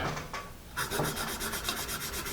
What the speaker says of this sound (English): I'm going to put it into my electric sharpener here.